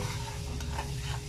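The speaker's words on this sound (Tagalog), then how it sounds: "magigisa na siya ngayon po yung bawang" Garlic sautés in a pan for lomi, giving a brief, steady frying hiss with soft crackle, close and unaccompanied by voices.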